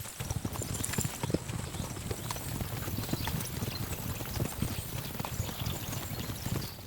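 Close, rhythmic hoofbeats of a galloping horse in Kingdom Come Deliverance 2, a fast, even clip-clop that keeps up the whole time, no talk.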